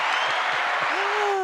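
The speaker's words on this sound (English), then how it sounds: "Put the claps on." A crowd claps and cheers at a live church event honoring a pastor, a short burst of dense applause with a whooping voice rising over the clatter.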